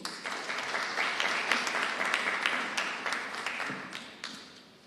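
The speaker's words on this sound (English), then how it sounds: "Another round of applause for Alison." Audience applause at an annual CEO forum after a presentation: dense, steady clapping from a large crowd that holds evenly for several seconds and tapers slightly toward the end.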